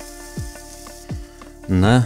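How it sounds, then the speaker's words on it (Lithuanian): Chicken sizzles steadily on a hot kamado grill, with a couple of low thumps and a short burst of voice near the end. "Čirška,"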